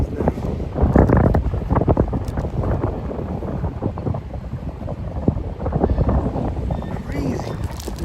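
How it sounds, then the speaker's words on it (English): Gusty wind buffets the microphone on an Upper East Side street in New York City in winter, a steady roaring rumble throughout with brief louder gusts, while people talk nearby. "the wind is picking up around here"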